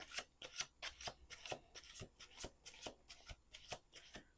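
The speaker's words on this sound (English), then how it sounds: "1 more shuffle." A deck of tarot cards is riffled and shuffled in a quick, steady rhythm of crisp, close-up flutters and taps, heard alone and fairly quiet.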